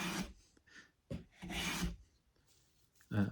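Hand plane shaving end grain of wood, with a new low-angle plane set fine; several short rasping strokes, close and fairly loud, separated by brief pauses.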